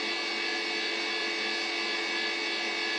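Vortex dual phase POE mini motor running with a steady, dense whir and tonal hum that holds evenly throughout, its rotor carrying a faint pulsing texture, loud and close with no voices.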